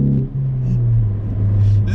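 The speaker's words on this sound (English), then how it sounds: "this is one of my favorite exhaust notes I've heard in a 4-banger." A Ford Focus ST's turbocharged four-cylinder idles with a deep, steady exhaust drone, close and continuous, with a slight swell in the rumble partway through.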